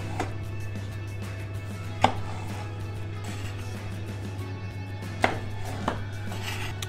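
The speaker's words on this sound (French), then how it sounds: "on va venir simplement les couper en deux." Knife cutting peeled pears in half on a board, a few sparse soft thuds and taps over a steady low kitchen hum, no speech.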